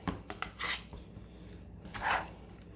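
A spoon mixing salsa with lime juice in a bowl, a few quiet scrapes and light clinks against the bowl, soft and close with short pauses between strokes.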